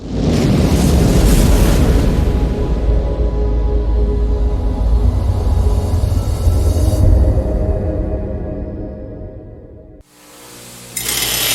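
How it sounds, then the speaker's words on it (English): Kitchen grease fire flaring up in a loud, roaring, whooshing rush of flame that holds steadily for several seconds and then fades, followed by an abrupt cut to a different burst of noise. "what would you do if you had a grease fire in your kitchen and it looked something like this?"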